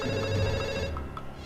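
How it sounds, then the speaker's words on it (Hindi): A telephone rings in a Hindi film scene, its repeated ringing tones sitting inside a dense, loud wash of background sound. "फोन बज रहा है"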